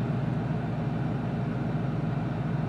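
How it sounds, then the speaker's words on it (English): A 1000-horsepower Mustang with a ProCharger supercharger idles with a steady, even drone from the engine that never rises or falls, close and moderately loud. "I love that supercharger idle sound."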